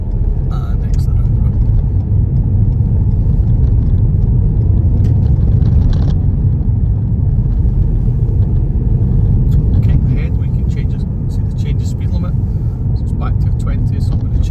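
Car approaching and moving around a roundabout on a driving test route in Musselburgh, with a steady low engine and road rumble throughout, while someone talks over it.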